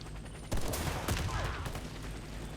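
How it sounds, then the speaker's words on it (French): Sniper rifle shots in the video game Warface ring out as a sharp burst of cracks followed by echoing reports, fairly loud against a low game background, with no one talking. "Je vais essayer de le déglinguer, ce serait rigolo."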